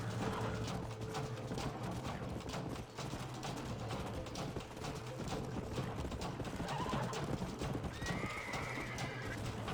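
Horses in Red Dead Redemption gallop with rapid, continuous hoofbeats, loud and near, and a whinny rises near the end, all over a dense game soundscape.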